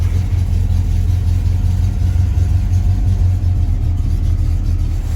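1971 Oldsmobile 442 with a 455 V8 idling after starting: a loud, steady, deep rumble with no breaks and a constant throb.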